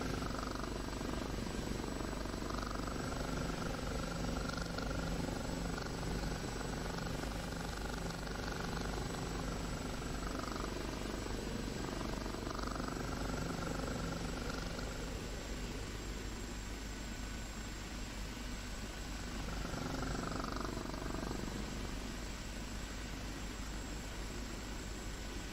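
Steady rotor and engine roar of an OH-58D helicopter flying low among trees, loud and continuous throughout with a broad wash of noise and no talk.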